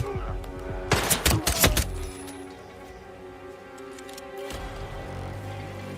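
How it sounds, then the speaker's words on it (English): Gunfire in the video game Hitman 3: a quick burst of several sharp, loud shots in rapid succession, followed by quieter game ambience and another faint rumble near the end. "Gunshot! Find the shooter now!"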